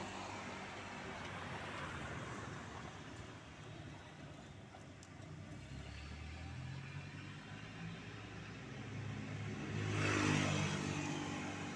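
Morning commuter traffic passes along a city road near a military command post, a steady broadband roar of cars and motorbikes with one vehicle swelling louder as it goes by near the end.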